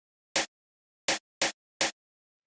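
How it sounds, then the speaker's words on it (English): Four short, crisp snare hits form a little fill for a Dirtybird style house beat: one hit, a pause, then three quick strikes in a row, dry and isolated against silence. "the next thing here is this little fill snare. So this sounds like this."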